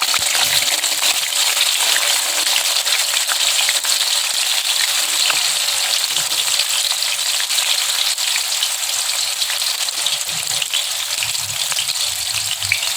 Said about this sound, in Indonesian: di sini saya panaskan minyak sayur. Ini udah panas ya minyak sayurnya, lalu kita goreng tahunya sahabat ragam